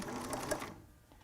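A sewing machine runs briefly and close up while stitching a face mask made from a T-shirt, a quick burst of rapid mechanical stitching that stops abruptly.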